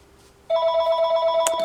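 A telephone rings for an incoming call in a quiet room during a ribbon-and-card craft session, a steady warbling electronic ring that starts abruptly and repeats in a fast, even pulse, clear and close with no talk over it.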